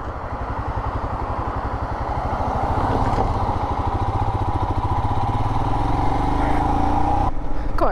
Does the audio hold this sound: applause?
no